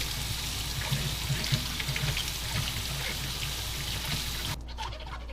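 Tap water runs continuously over a watermelon being rinsed, a steady close splashing wash with faint bumps of handling, cutting off abruptly near the end.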